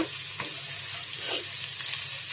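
Vermicelli is stirred in a pan with ghee, cardamom, cinnamon, sugar and coconut, making a dense, steady sizzle broken by a few soft scraping strokes, close and fairly loud with no speech.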